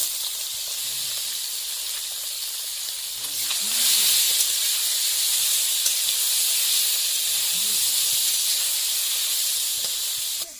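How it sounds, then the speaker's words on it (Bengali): Koi fish frying in hot oil in a home kitchen give off a steady broadband hiss and sizzle that swells a little after the start, with brief murmured voices underneath. "তেলটা গরম হয়ে গেছে এইটাই এই মাছগুলো ভেজে নেব কই মাছ"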